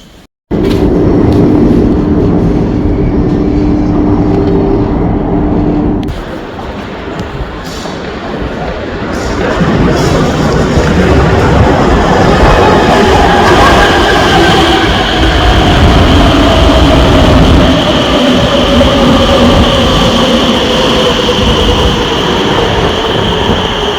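A crowded metro train in the Netherlands rumbles loudly, starting with a hum and a brief drop before building into a continuous roar of wheels and motor with rising whines.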